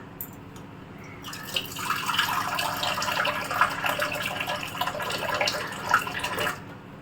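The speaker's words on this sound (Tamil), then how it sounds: "இதில் 1 கப் தண்ணி விட்டு காய்ச்சிக்கங்க" A cup of water is poured into milk in a kadai before boiling: a steady splashing trickle of liquid that starts after a quiet moment and runs for several seconds, then stops abruptly, heard close up and without talk.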